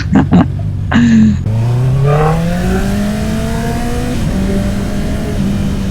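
A Honda CB650R motorcycle fitted with an Akrapovic full exhaust system: a few sharp throttle blips, then a long rising rev that climbs smoothly and holds high, loud and close, with no backfire or talking.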